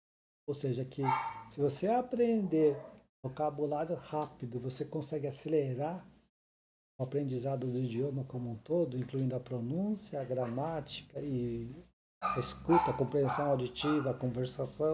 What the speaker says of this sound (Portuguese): Se vocês estão escutando um cachorro latindo, é porque um cachorro realmente está latindo.